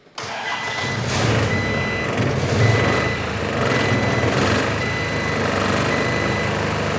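A cold skid steer engine cranks and fires up at once, then settles into a loud, steady idle with a faint beeping tone running through it and no talking.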